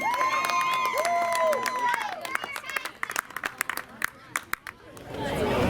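A crowd applauds the 10U AA youth baseball champions at an outdoor tournament wrap-up, with scattered claps and cheers over voices and chatter, and the clapping builds into a dense roar at the end.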